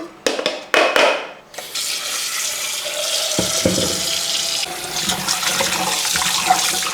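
Tap water runs steadily over chopped fish pieces being washed in a sink, a loud continuous splashing rush with a few sharp knocks at the start.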